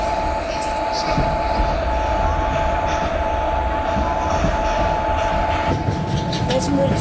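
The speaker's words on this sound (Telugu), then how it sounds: "ఇప్పుడే మన ట్రైన్ ముంబై సెంట్రల్ నుండి బయలుదేరడం జరిగింది గైస్" A train leaving Mumbai Central station rumbles steadily from inside the carriage, a continuous low roar with a faint hum and occasional clatter.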